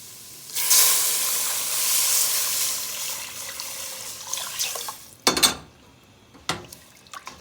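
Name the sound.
water poured into a pot of grey snapper stew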